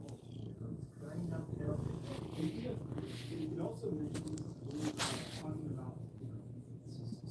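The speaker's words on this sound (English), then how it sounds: "right now she's purring" A cat's low, steady rumbling purr close up, continuous and rhythmic, with soft rustling and a few small movements over it.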